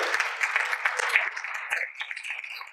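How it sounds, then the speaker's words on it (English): Applause from a seated audience at a vision therapy study group conference welcoming the next speakers, moderately loud at first and thinning out as it tapers off. "Warm applause for our next speakers, Drs. Alyssa, Alicia, and Dr. Dan."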